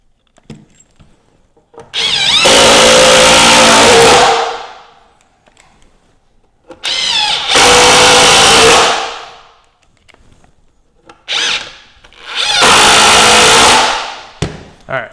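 Cordless impact driver sinks 2.5-inch wood screws into an outdoor bench, three loud bursts of hammering, whirring drive each lasting a couple of seconds, separated by quiet pauses.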